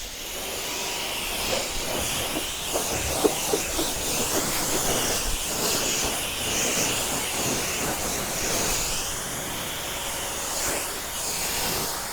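Steady broadband hissing spray of water rinsing a ceramic-coated car, continuous and fairly loud for the whole stretch, with small splashy variations and no talking.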